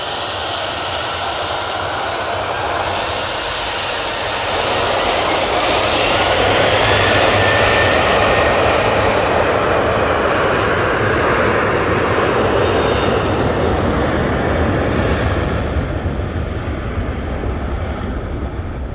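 An Airbus A330 airliner roars at Manchester Airport, a loud, broad engine rumble that swells over several seconds and then holds steady for the rest of the stretch.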